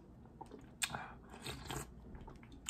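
Pho noodle soup being eaten up close, with soft bites, slurps and chewing noises scattered across a few seconds, one sharper burst near the start, over a low steady background.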